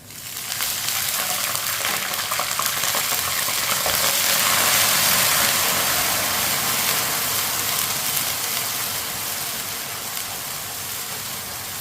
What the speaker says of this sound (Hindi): थोड़ा सा पानी डाल लेंगे।